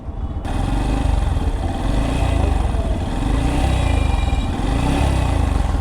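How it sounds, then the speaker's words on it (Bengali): A second-hand Yamaha FZS V3 motorcycle engine runs steadily and close up, giving a loud, even, throbbing idle with no speech over it. "এটা ইঞ্জিনে কি সাউন্ড আপনাদেরকেও শোনাই"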